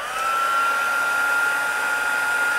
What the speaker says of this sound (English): Now let me bring in my heat tool.